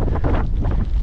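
Strong wind buffets the microphone on a snowy mountain ridge during a hail and snow squall, a loud, continuous roaring rush with gusty swells and no voices.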